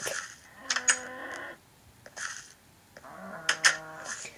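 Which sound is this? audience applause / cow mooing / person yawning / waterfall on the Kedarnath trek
cow mooing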